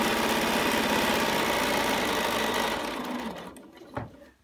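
A sewing machine stitches a few stitches into fabric for a custom fabric container, running loud and steady before slowing and stopping, followed by a brief click near the end.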